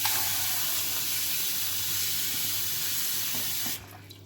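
Water from a tap runs steadily into a pot for boiling eggs, a loud continuous hissing pour that cuts off sharply near the end, leaving a quiet room.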